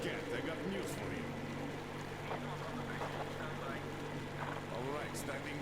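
In the video game Metro Exodus a boat engine runs steadily with a low droning rumble and water washing around the hull, while people talk over it.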